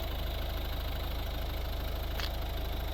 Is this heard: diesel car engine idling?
yes